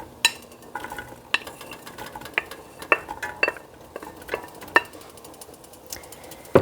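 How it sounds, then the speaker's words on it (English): Sautéed onions and carrots being stirred in a soup pot, a wooden or metal utensil scraping and clacking against the pot in repeated sharp knocks over a soft background sizzle, with no voices. "I'll give that a little bit of a stir."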